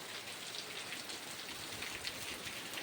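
Steady, heavy rain falls in a village with an even, hissing patter, constant and unbroken throughout.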